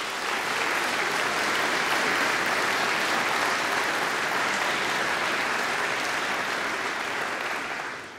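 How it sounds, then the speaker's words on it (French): Steady, dense applause from a formal forum audience welcoming French guests, a continuous wash of many hands clapping for about eight seconds before tapering at the end. "je vous propose tout simplement d'applaudir nos amis français."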